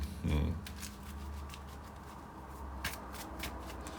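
Playing cards shuffled for a Company of Heroes board game, a brief riffle burst near the start followed by soft handling rustle, with quiet talk nearby.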